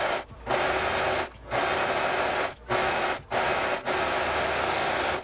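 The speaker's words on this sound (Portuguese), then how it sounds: "Vou costurar aqui na reta e também no overlock para dar acabamento" A sewing machine and an overlock stitch fabric pieces, running in steady loud bursts separated by several brief pauses.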